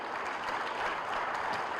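Brief, even applause from an audience at a ceremony in Islamabad, heard at a moderate distance as a steady wash of clapping.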